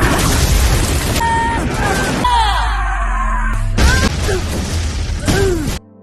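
An animated film scene with a tissue made into a bomb going off: loud booming bursts and crashes with sweeping whistling tones between them, followed by a second run of blasts and a sudden cutoff.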